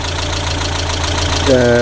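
A Mk1 Mazda MX5 engine idles steadily and close by, a low rumble with a ticking clatter from noisy cam lifters, and the revs rise slightly near the end.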